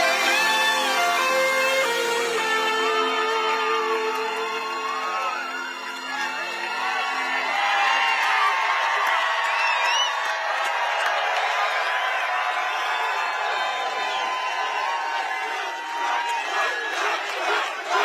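A large rally crowd cheers and whoops in a sustained roar that follows music, with chatter and shouts rising throughout and staying loud and distant-sounding.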